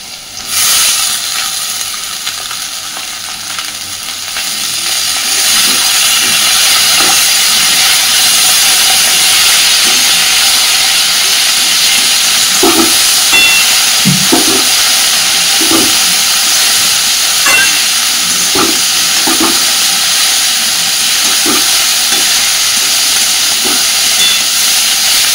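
Washed drumstick flowers go into a pan of frying potatoes. A softer sizzle swells after a few seconds into a loud, steady hiss, with scattered crackles and pops close by and no talking.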